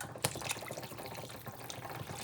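Water pours steadily into a pot of Louisiana-style red beans, a close, continuous splashing rush that lasts throughout.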